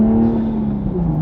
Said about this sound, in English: driving back and forth in the car